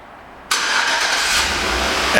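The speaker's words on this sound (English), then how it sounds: "And the car starts right up." A 2013 GMC Yukon XL SUV engine starts by remote start after brief quiet, catching abruptly and settling into a steady, loud idle rumble with a faint rise near the end.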